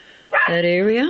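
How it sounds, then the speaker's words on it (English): One bark or whining yelp from a pet dog in a home, close and sustained for under a second, rising just after a woman's words and overlapping the end of her speech. "Sorry about my dog."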